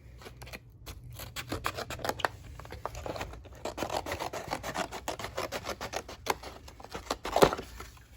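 Cardboard is cut for a small diorama box in a quick series of crisp, rustling cutting strokes, close up and steady, with no voices.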